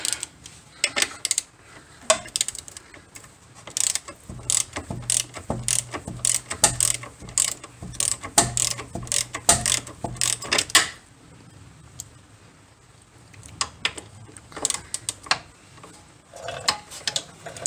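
Ratchet and socket working on a C4 Corvette's suspension during lowering, giving a rapid series of sharp metallic clicks in bursts, with a steady low tone through the middle stretch and quieter pauses between strokes.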